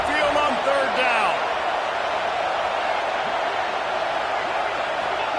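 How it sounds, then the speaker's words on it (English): Stadium crowd roar from a college football video game, Alabama Crimson Tide fans on third down, a loud, steady wash of cheering with a brief commentator voice early on. "The Tide crowd rolling noise down onto Saban Field on third down."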